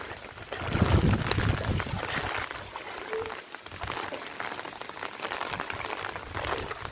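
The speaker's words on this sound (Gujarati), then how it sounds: "બહુ જોરદાર વરસાદ આવી ગયો અમારે." Heavy rain pours in a dense, steady roar during flooding, with gusty rushing noise and faint voices underneath.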